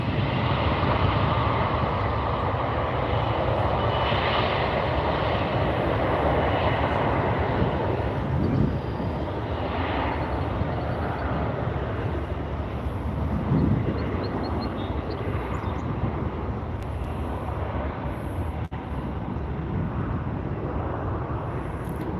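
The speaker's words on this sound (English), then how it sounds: "Here goes the United flight." United Airlines jet taking off at Salt Lake City airport, a loud, continuous broadband engine roar that holds for over twenty seconds with slight swells, and no talking.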